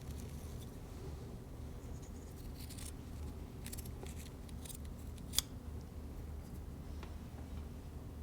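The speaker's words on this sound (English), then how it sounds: "I'll cut out my second layer" Scissors snip through a carbon fiber cloth layer, cut at a 45-degree template angle for a Hartzell composite propeller gouge repair, giving soft crisp cuts over a constant low background hum.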